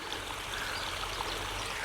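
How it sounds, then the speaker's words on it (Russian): Small stream of water trickling down a mountain road in Borjomi, Georgia, a steady close hiss of running water with no voices. "Только что я сделал настоящий горный водопад."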